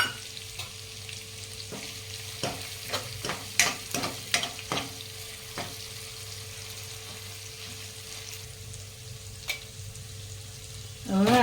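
Curry leaves go into hot oil for dal pakwan, a steady sizzle beneath a run of sharp spoon-against-pan stirring clicks that fade into continuous frying.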